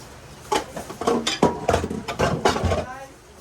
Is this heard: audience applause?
no